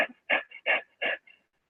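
A female dog in a veterinary consultation pants during a cardiac syncope episode, giving four loud, close, rhythmic breathy bursts spaced about a third of a second apart, with faint catches between them and no talking.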